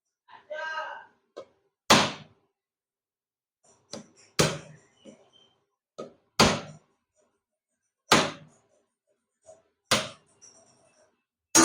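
A bael (wood apple) being cracked open by striking it with a wooden rolling board, heard as five or six sharp, loud, separate whacks spaced a couple of seconds apart, with a brief voice near the start.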